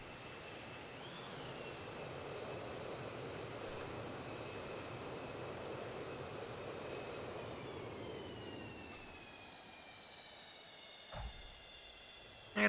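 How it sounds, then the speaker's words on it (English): Boeing 737-200 jet engines in the X-Plane flight simulator, a loud steady roar with whining tones that slowly shift downward, then quieten near the end with a couple of brief clunks. "This is a loud plane, Gizo."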